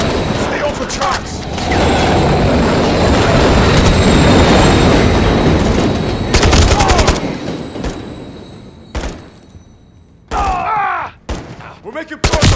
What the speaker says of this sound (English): Crossing, watch for trains.